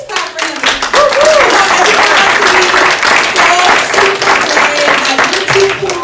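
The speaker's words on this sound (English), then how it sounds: "Please clap for him." An audience at a church teen all-nighter claps and applauds in a dense, loud burst that holds for several seconds, with a few voices rising through the noise.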